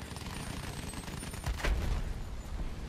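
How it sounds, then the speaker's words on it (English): Aircraft firing rockets in Battlefield 1, a rough, continuous barrage of gunfire-like bursts with a heavier booming impact midway, sounding fairly close and loud throughout. "Switching to rockets. Going on a run."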